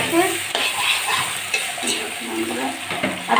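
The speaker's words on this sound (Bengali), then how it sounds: "দিয়ে আমি আরও কিছুক্ষণ ভাজা ভাজা করে নেব।" Bitter gourd and potatoes with onion and garlic fry in a pan, giving a close, steady sizzle with soft scraping from stirring and a few light clicks, no one speaking.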